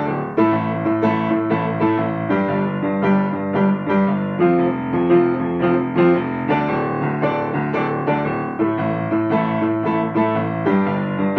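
Piano with both hands together plays a song, left-hand octaves under a right-hand part, a steady rhythmic pattern of clear, close notes with no talking.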